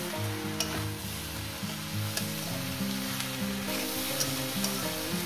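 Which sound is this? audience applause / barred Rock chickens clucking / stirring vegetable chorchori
stirring vegetable chorchori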